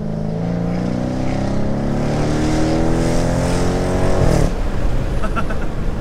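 A Dodge Challenger R/T's naturally aspirated 5.7-litre V8 revs loud and close, pitch climbing steadily through a gear before dropping at the shift into a rumbling, gravelly idle.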